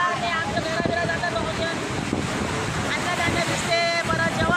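Sea water surging into seaside houses in a Koli fishing village, a continuous roaring wash of water and wind noise, loud and close, with people's voices faintly mixed in.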